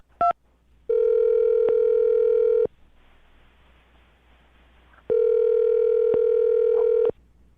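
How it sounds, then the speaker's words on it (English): Telephone line tone on a call to a phone number, two long steady tones of about two seconds each with a quiet gap between them and a brief click-like beep at the start. "I'm going to dial her phone number right now"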